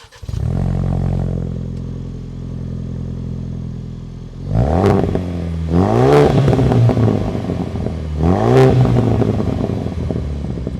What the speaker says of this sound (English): And now the Bronco. We're about to do the exhaust sound.